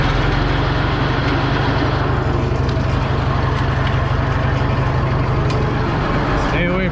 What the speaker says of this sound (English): Stay away from that PTO shaft because there's not much of a guard on it. It's running.